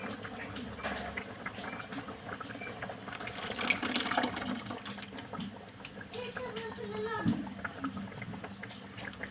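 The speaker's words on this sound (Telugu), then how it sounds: "తర్వాత చింతపండు పులుసు వేసుకోవాలండి." Tamarind juice splashes and pours into an empty pot for Telugu-style fish curry, a continuous watery rush with some bubbling, close up, with a voice faintly audible beneath the liquid noise.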